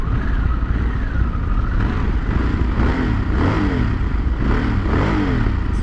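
A stock 2023 Harley-Davidson Sportster S engine while riding, a steady, fairly quiet drone with rising and falling pitch sweeps as the throttle changes, continuous and alone, without voices.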